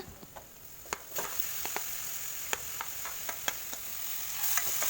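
Vegetables fry in a pan with a soft hiss, broken by scattered sharp ticks and taps of a spoon stirring against the pan, faint and close with no talk.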